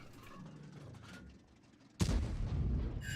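A tank cannon fires at a Panther in World of Tanks: one sudden loud, booming shot lands partway through after quieter engine and battle rumble, and a dense roar carries on close and heavy to the end.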